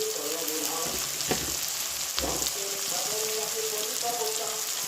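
Onion, tomato, dried red chillies and whole garam masala fry in hot oil, giving a steady, dense close sizzle with occasional stirring clatter and faint voice murmurs underneath.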